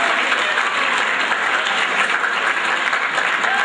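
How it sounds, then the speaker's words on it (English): A room full of students at a motivational keynote claps for themselves in a loud, steady wash of applause that holds evenly before cutting off abruptly. "So give yourselves a round of applause."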